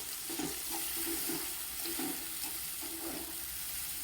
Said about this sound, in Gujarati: આ ટોમેટોની જે પ્યુરી તૈયાર કરેલી હતી તેને એડ કરવાની છે પછી બધું જ બરાબર મિક્સ કરી લઈએ